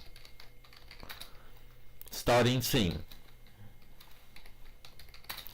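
Typing on a computer keyboard, soft rapid key clicks running quietly throughout, with one louder burst of a voice speaking briefly in the middle.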